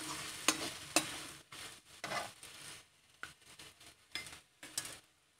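Spatula stirring pointed gourd (parwal) with potatoes, red chilli powder and turmeric in a pan, with sharp scraping clinks against the metal in an irregular rhythm over a soft sizzle, close and moderately loud, no talking.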